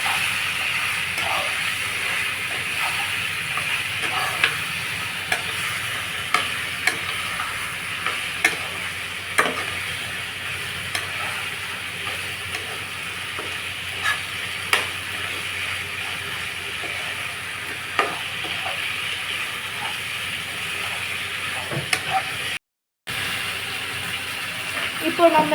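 Turmeric is stirred into goat eye gravy in a sizzling pan, giving a steady frying hiss throughout, broken by light spoon scrapes and taps.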